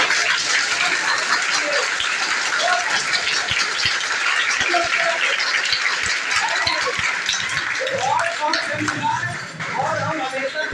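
An audience applauding at an indoor event, sustained dense clapping that fills the hall throughout, with a voice speaking faintly underneath.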